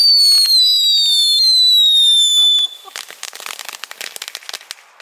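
Consumer fireworks from a Dutch fireworks shop go off outdoors: a long rising whistle for about two and a half seconds, then a rapid run of sharp crackling pops, loud and fairly close.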